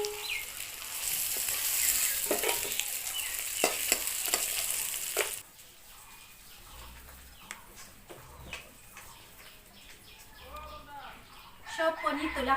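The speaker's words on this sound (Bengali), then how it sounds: "পনির ভাজা ভাজা হয়ে গেছে" Paneer fries in oil with a bright, loud sizzle for the first five seconds, then the sizzle drops to a quiet hiss broken by spatula clinks as the pieces are lifted out. Someone talks, and a bird calls faintly in the background.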